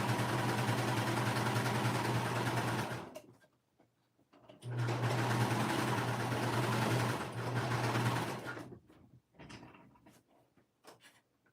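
A sewing machine stitches a seam in two steady motor runs of about three to four seconds each. The runs are separated by a pause, and a short burst follows at the end. The sound is close and moderately loud, with no talk.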